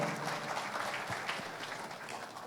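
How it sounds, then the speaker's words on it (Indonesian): Steady applause from an audience at an Indonesian political-law event hosted by the United Development Party faction, a continuous dense patter of clapping running throughout at moderate volume. "Tepuk tangan yang meriah untuk kita semuanya."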